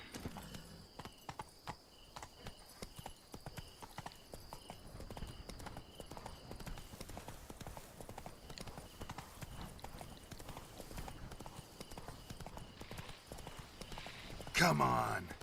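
Hooves of Roach, Geralt's horse in The Witcher 3, clip-clopping at a steady walking pace all the way through, fairly quiet and close, with a louder burst of game sound near the end.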